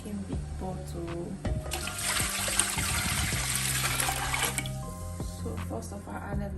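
Water running into a large cooking pot for smoky jollof rice, a steady trickling pour with light clatter throughout, fairly close, with no talking.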